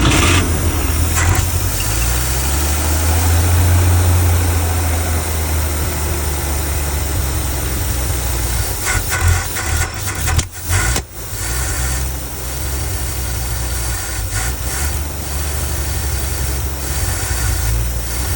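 A 1973 Chevy G10 van engine turns over and catches, then settles into a steady, loud idle close by with a brief uneven stretch midway.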